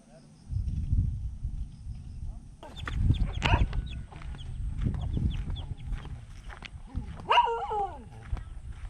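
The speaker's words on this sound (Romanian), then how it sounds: "în afară de cățelul ăsta, liniște aproape totală." A dog barks in short bursts outdoors by Lake Batur, with a rooster crowing briefly later and muffled voices in the background.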